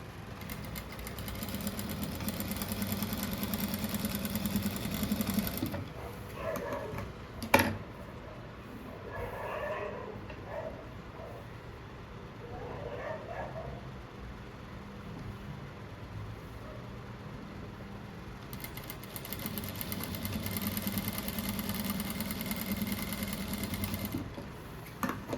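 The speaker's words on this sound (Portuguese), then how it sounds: "Agora eu só vou passar uma costura em toda a volta aqui para depois recortar." A sewing machine stitches around the edge of a striped rug, humming in steady runs at the start and end with a quieter pause between, where faint handling clatter is heard.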